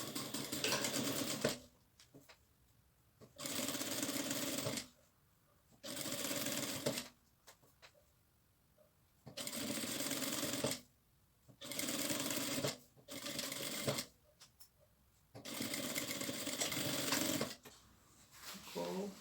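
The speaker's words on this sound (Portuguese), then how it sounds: "Eu coloquei o pé calcador de zíper e agora vou fazer a costura." Sewing machine fitted with a zipper presser foot stitching through three layers of material, running in about six loud, steady bursts separated by short pauses.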